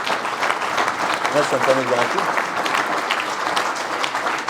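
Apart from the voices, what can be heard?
audience applause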